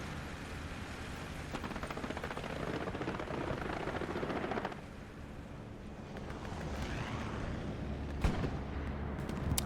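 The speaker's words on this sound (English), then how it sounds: "Bombing run coming in the back line. That is, yeah, that's an Axis bombing run." Axis bombing-run aircraft in the World War II shooter Hell Let Loose on the Elsenborn Ridge map: a loud, steady engine drone and rumble fills the clip, with a sharp blast near the end and no talking.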